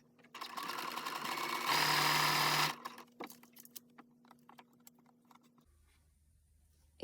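A sewing machine stitches elastic onto knicker fabric in a loud, fast continuous whir that speeds up, then stops, followed by scattered clicks and handling noises.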